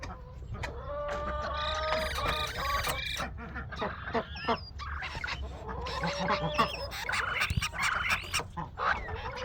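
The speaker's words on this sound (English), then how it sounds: "Definitely have birds in here." Baby birds in a gutter on a goat barn give busy, overlapping high chirps and squawks that run continuously at moderate level, with some lower honking calls mixed in.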